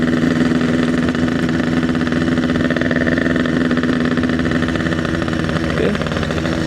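A Yamaha RX King two-stroke motorcycle engine runs steadily and loudly at close range, a constant buzzing drone with no talk over it throughout.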